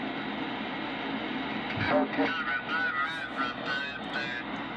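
Single sideband voice on an Eton Elite 750 shortwave receiver, tuned off zero beat so the speech comes out shifted and garbled, with a steady hiss of band noise underneath.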